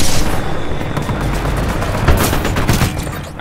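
Loud, continuous gunfire in Titanfall 2, with a distant-sounding shotgun among dense overlapping shots and booms, forming a sustained battle din with no talk.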